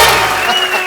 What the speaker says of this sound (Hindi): एक बार सनी बाजी और बॉबी बाजी के लिए जोरदार तालियां हो जाए।